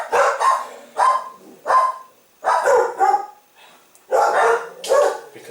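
Dogs barking in repeated bursts, about six loud barks spread evenly over several seconds, close by with short pauses between them.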